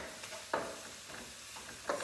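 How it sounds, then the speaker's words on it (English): Frozen and thawed cauliflower is stir fried in a pan, with a faint, soft sizzle and a few quick scraping stirs. "Stir fry that."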